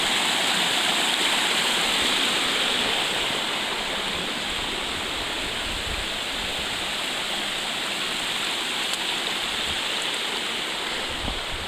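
A mountain brook on a rocky hiking trail below Mt. Washington rushes in a steady, loud, broadband wash of flowing water with no pauses, heard close by and alone.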